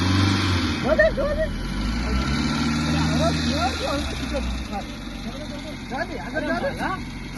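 A car's engine rumbles and rises as it pulls away, the low drone steady, then fading while people talk loudly over it.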